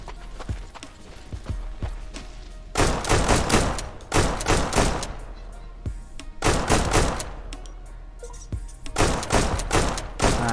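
Bursts of rapid gunfire in the PvP survival shooter Deadside at a military base, loud clustered volleys separated by short pauses and quieter single shots, with no talking.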